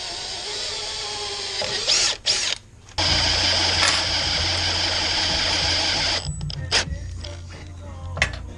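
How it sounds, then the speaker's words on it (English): A power drill boring a pilot hole in steel with a small bit whines steadily at close range, cutting out briefly twice, then stopping after about six seconds, followed by scattered clanks and handling noise. "We're going to drill a pilot hole with a smaller bit just to get started there"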